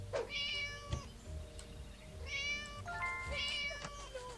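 A cat in the video game Scary Teacher 3D meows three times, each call clear and drawn out, with short gaps between and no talking.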